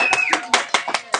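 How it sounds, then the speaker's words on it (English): Scattered clapping in a high school algebra classroom, a handful of sharp, uneven claps from a few students, with some voices mixed in. "So, let's have a round of applause."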